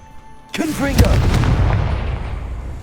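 A Confringo blasting spell going off in a Harry Potter video game: a sudden loud boom with a rumbling tail that fades slowly, a brief voice heard just as it fires.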